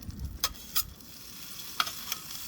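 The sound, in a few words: scraper cleaning a hot griddle on a woodstove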